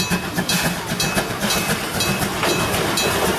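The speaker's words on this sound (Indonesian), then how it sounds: "Kereta Thomas" A small Thomas toy train runs with a steady, rapid clicking and whirring rhythm, close and fairly loud, with no voices.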